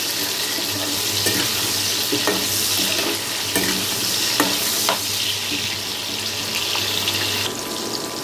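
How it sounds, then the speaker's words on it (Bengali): Potato pieces fry in hot oil as they brown for a chhena kofta curry, giving a dense, continuous close-up sizzle with occasional sharp clicks of a spatula against the pan, no talking. "এখন আমি আলুটাকে কিন্তু বেশ একটু লাল লাল করে ভেজে দেবো"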